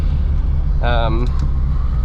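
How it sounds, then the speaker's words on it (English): Constant low roar of wind and road noise inside a moving 1971 Vauxhall Firenza, with wind leaking in all over the car and a brief voice sounding over it partway through. "you can hear lots of wind coming through all over the car"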